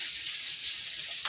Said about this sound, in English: the chicken is frying away